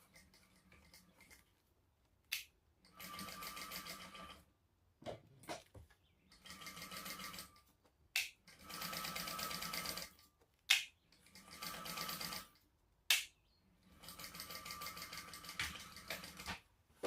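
Sewing machine basting a backpack piece: several short bursts of fast mechanical stitching with pauses between them, broken by light clicks and handling noises, fairly quiet and close.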